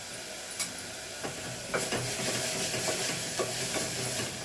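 Ginger garlic paste frying in a pressure cooker with a little salt, a quiet sizzle broken by sharp spoon taps and stirring scrapes against the metal, close by with no talking.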